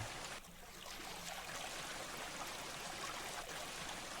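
Water flowing from placed water source blocks in the Minetest video game: a steady, rushing, stream-like hiss that runs continuously and evenly throughout, with no talk over it.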